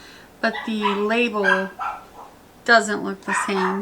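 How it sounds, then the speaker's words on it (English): An excited pet dog barks and yips in a home while a person speaks nearby, the dog's short bursts partly mixed under the talking. "Sorry if you can hear my dog barking."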